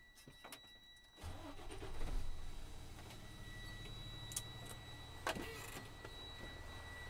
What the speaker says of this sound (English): now I'm gonna restart my truck and allow my pressure to build back up.